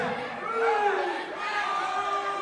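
A wrestling crowd boos and shouts in a steady, loud wave at a Mack the Franchise versus Mil Amores match, with individual voices and jeers standing out of the mass.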